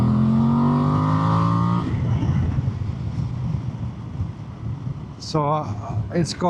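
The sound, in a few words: Voge DS800X Rally motorcycle engine revving at speed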